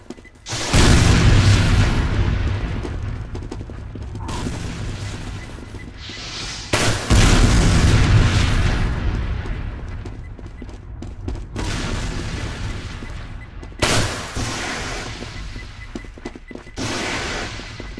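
Rocket explosions in the video game Team Fortress 2: loud, booming blasts repeat through the clip, with strong hits near the start, around seven seconds and near fourteen seconds, each trailing into sustained rumbling noise.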